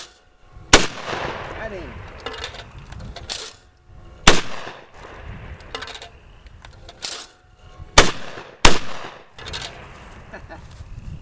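An RIA VR80 12-gauge semi-auto tactical shotgun fires several loud, sharp blasts outdoors with echoing tails, spaced irregularly across the span, with a brief voice speaking between shots.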